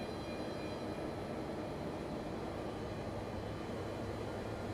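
A Boeing 747-200 engine spools up during startup in a flight simulator game, producing a steady, even, faint roar. The broadband whine stays constant and unbroken throughout.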